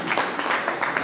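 An audience at a rap debate and concert show bursts into brief, lively applause to welcome a guest onstage, with clapping in quick uneven waves.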